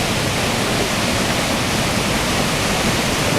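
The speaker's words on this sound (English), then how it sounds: "This is the underground river that cuts through the canyon here." An underground river rushes through a limestone canyon, a loud, steady roar of churning water that fills the whole scene without letup, no voices over it.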